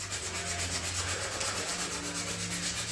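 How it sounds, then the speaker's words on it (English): A primed car bumper is sanded in a continuous close rasping rub with a steady back-and-forth rhythm and a faint hum underneath. "we're going to sand away the heavy spots right now"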